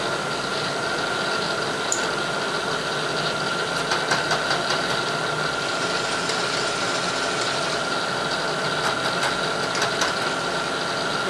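A metal lathe runs in back gear at slow speed while squaring stock for a clamp knurling tool, giving a steady mechanical drone with a faint whine, light recurring ticks and occasional rattles, and no voices.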